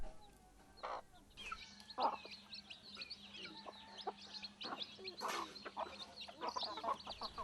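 A mother hen clucks softly with her newly hatched chicks peeping in a nest kept indoors at a backyard poultry home, repeated short calls and high chirps, quiet and close.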